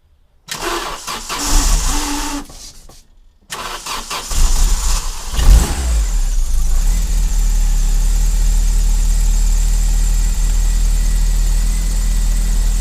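An Opel Calibra engine cranks after a few brief clicks and shuffles, catches with a loud rev, and then settles into a steady, close, rumbling idle that carries on to the end with no talking.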